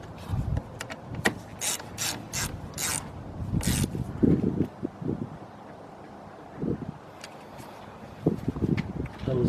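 Ratchet clicks in short bursts while 11mm bolts are tightened during a starter replacement on a 2004 Nissan Maxima, with metallic tool knocks and handling noise between the bursts.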